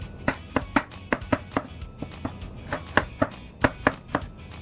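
A knife slices an onion on a cutting board in crisp, close chops that come in uneven bursts of two and three, with no talking.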